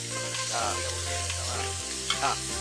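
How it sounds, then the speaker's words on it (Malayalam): Onions sautéing with salt in a pan for jackfruit biryani, a close, steady sizzle with soft scraping stirs over a constant low background hum. "നമുക്കൊരല്പം ഉപ്പിട്ടിട്ട് വഴറ്റാം. അപ്പം ഉള്ളി നന്നായിട്ട് വഴന്ന് വരും."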